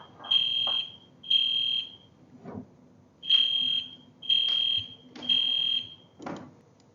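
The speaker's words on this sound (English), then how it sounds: "A smoke alarm is going to sound like this." A smoke alarm sounds in short, loud, high-pitched electronic beeps: two beeps, a pause, then a run of three evenly spaced chirps, with faint low background noise between them.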